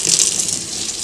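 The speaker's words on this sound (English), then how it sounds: "you're going to want to make sure that you squeeze the water out" Water being squeezed out of a wet makeup brush, a steady close hissing, splashy rush that stays fairly even for about a second with no voices.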